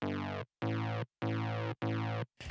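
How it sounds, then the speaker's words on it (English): Four sustained chords from a secondary synth bass layer built on a buzzy, lightly filtered saw wave, each held about half a second with short silent gaps between them, loud and alone. "Generally for this I use some kind of saw wave or some kind of buzzier sound"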